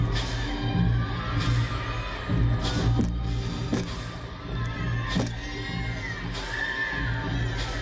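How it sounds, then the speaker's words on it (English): Arena crowd at the 2006 NCAA women's gymnastics championships cheers and shouts steadily in the background, with swells of whoops and applause rising and falling throughout. "Lots of cheering going on over there"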